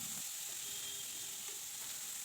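Carrots frying in a pan while being stirred, a steady soft sizzle with faint scraping of the stirring running throughout at low, even level, no talking.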